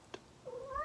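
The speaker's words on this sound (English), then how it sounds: "sorry about my cat, she's very vocal right now." A house cat gives a short rising meow, faint and nearby in a quiet room, preceded by a small click.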